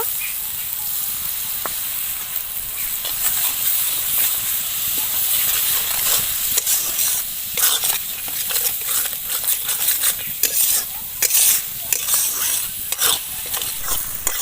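Spice masala of Kashmiri chilli powder, salt and a little water sautéing in a pan for a catfish and potato curry, a steady sizzle and hiss broken by frequent scraping stirs, close and fairly loud with no talking.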